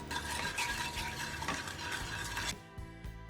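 Asafoetida powder dropped into hot oil in a kadhai over medium heat gives a steady, close sizzle with light scraping, which cuts off sharply near the end and leaves a quieter hum.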